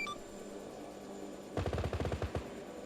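Bursts of automatic gunfire in the video game Arma during a Cold War era firefight, a short run of rapid, evenly spaced shots after a stretch of low background hum.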